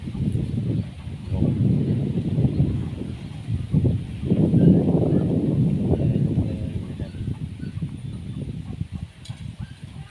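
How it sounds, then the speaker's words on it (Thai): Strong wind gusts across open farmland, a steady broadband rumble of buffeting microphone noise that swells and fades over ten seconds, loud and continuous with no other clear sounds. "ลมพัดแรง"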